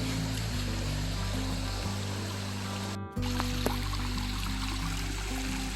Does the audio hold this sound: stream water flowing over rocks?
yes